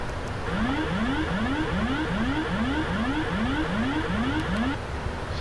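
A repeating electronic autopilot disconnect warning from a Boeing 777-300ER flight simulator, a rising chirp sounding about ten times in steady rhythm, loud and alone over a constant hiss.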